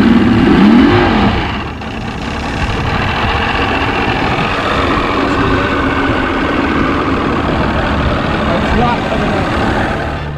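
A boat engine on a run from Fresco Channel toward Haulover Inlet roars steadily throughout, a loud, continuous low rumble with a brief voice-like burst at the start.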